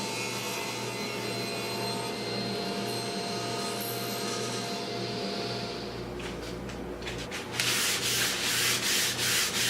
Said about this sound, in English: I sanded the surface up to 320 grit